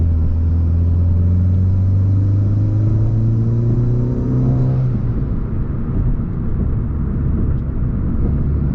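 A Hyundai Veloster Turbo with an automatic transmission accelerates from inside the cabin, its engine drone climbing in pitch through a gear change, then settling into a rumbling road roar.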